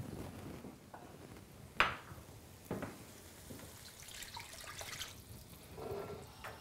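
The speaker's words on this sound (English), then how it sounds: "And we quickly add the water." Water poured into a pan of tomato paste with turmeric for a tofu curry: a faint, quiet splash and trickle over low kitchen background, with a couple of brief clinks.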